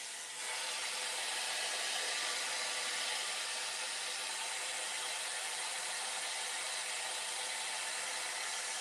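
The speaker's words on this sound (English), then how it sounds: "because the heat from the brush is right there" A hot air brush runs steadily on hair near the hairline, producing a loud, constant close blowing hiss and motor whir that starts abruptly and holds without pause.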